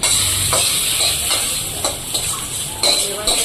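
Whole spices tempering in hot oil for a Bengali dish, a steady bright sizzle and hiss with a few sharper crackles and pops, close and continuous throughout.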